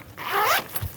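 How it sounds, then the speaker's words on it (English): A zipper on the rear vent of a Hilleberg Nallo 3 tent is pulled closed in one quick continuous rasping zip, close and clear, with no talking. "Zip it up,"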